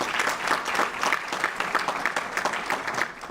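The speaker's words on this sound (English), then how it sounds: "so you clapped too soon" An audience claps throughout at a school board Black History event, a dense, continuous burst of applause heard up close.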